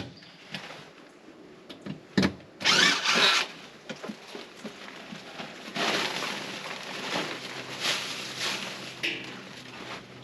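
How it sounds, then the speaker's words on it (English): Screws being backed out of an old wooden board, heard as a series of scraping, creaking turns and clatters at close range, with a brief louder burst near the start and steady rasping afterward. "screws in this board, so I'm going to have to try to back them out"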